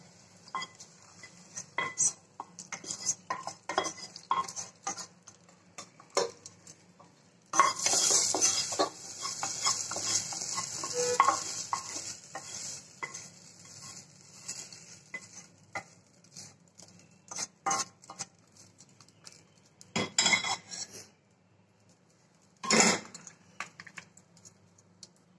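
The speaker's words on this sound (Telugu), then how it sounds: "ఇప్పుడు ఈ పోపు దీంట్లో కలుపుకుందాము" A tempering of fried seeds and spices being stirred into tamarind rice in a pot, with repeated scraping and clinking of a spoon against metal, brief louder bursts, and no talk.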